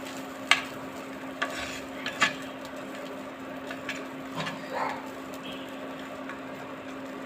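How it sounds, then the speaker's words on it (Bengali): Dried chillies fry with garlic and onion in a pan, giving a soft steady sizzle under a constant hum, broken by a few sharp clicks and scrapes of stirring. "রসুন পেঁয়াজগুলা ভাজা হয়ে গেছে, এর মধ্যে শুকনো মরিচ দিয়ে দিব,"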